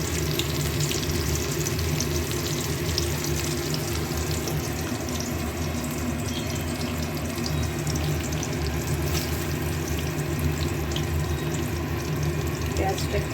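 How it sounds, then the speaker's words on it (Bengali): Chopped onion fries in hot oil over a tempering of spices, a continuous dense sizzle that holds steady and loud throughout without pause. "পেঁয়াজটা একটু ভাজা হোক।"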